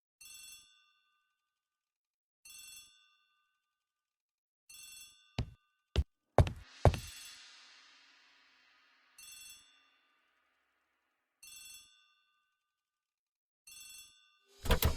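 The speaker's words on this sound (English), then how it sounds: "The telephone in the hall is ringing." An old-style telephone bell rings in a hallway in an Agatha Christie mystery video game, sounding in short repeated bursts at regular intervals, interrupted midway by a few sharp thuds and a fading crash.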